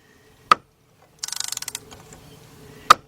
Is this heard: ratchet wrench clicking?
yes